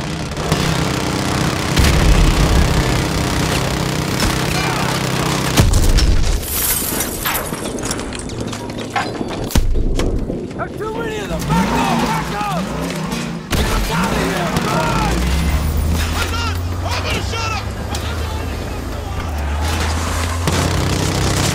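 Rifle and sniper fire crack through a chaotic Call of Duty: Modern Warfare 2 Campaign Remastered firefight, with dense shots, impacts and booms overlapping steadily under shouted voices.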